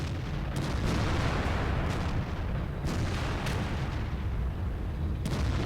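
Tank cannon fire in the video game World of Tanks, several loud booming shots spaced a second or two apart over a constant heavy battlefield rumble.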